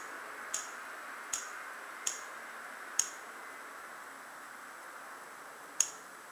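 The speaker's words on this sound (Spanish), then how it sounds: "¿Habéis escuchado que os hace clic, clic, clic cada vez que le doy alguna cosita de estas?" Five sharp, light clicks sound one at a time with uneven gaps, crisp and close against a quiet hiss.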